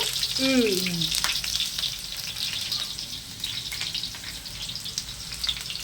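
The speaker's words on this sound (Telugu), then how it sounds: "ఇవన్నీ మంచిగా వేయించుకోవాలా" Peanuts and onion pieces frying in an iron pan, a steady crackling sizzle throughout, close and moderately loud, with a brief voice-like tone near the start.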